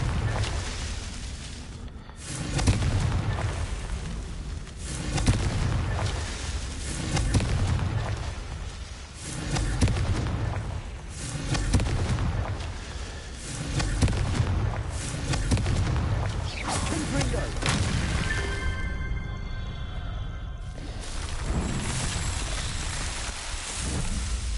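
Repeated Confringo blasting-spell explosions in Hogwarts Legacy, a string of loud, booming bursts roughly every couple of seconds over a dense, rumbling game soundscape, with no talking.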